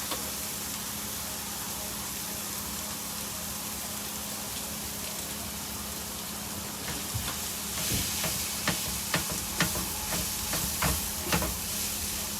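Spiralized sweet potato and carrot cooking over high heat in an RV kitchen, a loud continuous sizzle and hiss that grows busier with crackling bursts toward the end.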